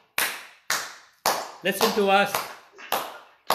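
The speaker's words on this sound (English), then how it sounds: "You're clapping for all the healthcare professionals" Several people clap in sharp, loud bursts spaced about half a second apart, during a group meditation session. A short stretch of speech cuts in partway through, and then the claps carry on.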